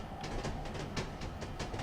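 A simulated train from Train Simulator 2017 rolls along the track with a steady rumble and regular clickety-clack wheel beats over rail joints, close and continuous with no voices.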